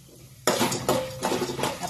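Popcorn kernels with turmeric are stirred in a pan, a close scraping and rattling of utensil on metal in repeated strokes, starting after a brief quiet moment.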